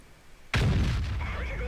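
A World of Tanks tank gun firing: a single sudden heavy boom after a short quiet lead-in, followed by a long rumbling decay with faint mechanical whine.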